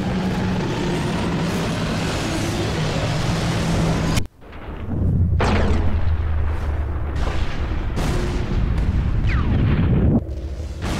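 A rocket explosion in the video game Sniper Elite V2: steady loud noise, then a sudden deep blast about four seconds in, followed by a long heavy rumble with several sharp cracks and no talking.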